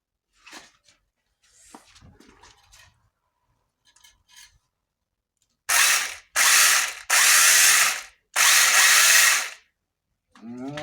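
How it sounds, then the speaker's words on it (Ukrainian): A repaired electric branch chainsaw is switched on in a workshop, with its chain spinning in four loud, harsh bursts of whirring motor noise after a few quiet handling clicks. "Ланцюжок крутиться, все крутиться, працює"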